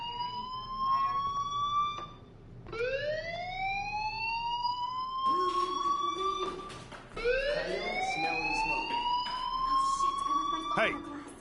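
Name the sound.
fire alarm in the video game Life Is Strange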